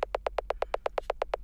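A percussion sample placed on a 1/16 grid fires in a rigid, machine-gun burst, about eleven identical evenly spaced hits in under a second and a half, mechanical and fully quantized, with no talking.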